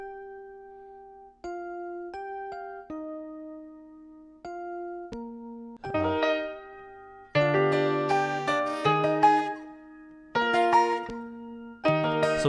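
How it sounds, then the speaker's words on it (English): A recorded bell part from an indie pop song plays alone, clear struck bell-like tones in a melodic pattern, sparse at first, then fuller with layered notes, close and bright. "I also recorded this bell part right here."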